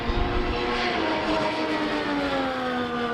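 A camera drone buzzes steadily with a droning tone that slowly shifts in pitch beside a racetrack where Mercedes and Alpine Formula 1 cars run in 2026, continuous and moderately loud with no talk.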